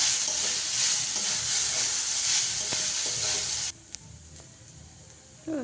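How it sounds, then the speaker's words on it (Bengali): Drained, washed flattened rice with turmeric hits a hot pan and sizzles loudly for a few seconds, then the hiss drops away to quieter crackling with a couple of faint clinks. "জল ঝরিয়ে চিড়েটা দিয়ে দিলাম"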